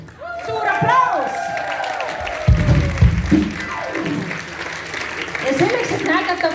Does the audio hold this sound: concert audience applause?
yes